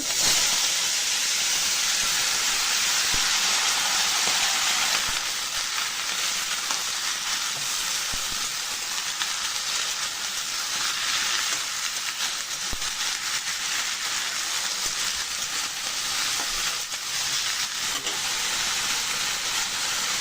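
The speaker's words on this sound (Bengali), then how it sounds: "কাটে ধুয়ে রাখা শাক ডাঁটা আলু ঝিঙ্গা সবগুলো দিয়ে" Cut greens, vegetable stalks, potato and ridge gourd hit a hot pan after tempering spices, giving a loud, steady sizzle and hiss that eases slightly after the first few seconds and carries on without talk.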